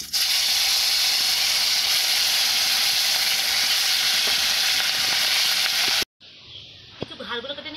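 Bhola fish, rubbed with salt and turmeric, sizzle loudly as they drop into very hot oil, a dense steady hiss that cuts off abruptly near the end, followed by quieter crackling and a clatter.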